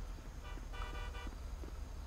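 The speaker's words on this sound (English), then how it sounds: "Honk that horn again and I'm gonna rip it out" A car horn in the GTA FiveM roleplay game gives two short, faint toots under constant heavy background noise.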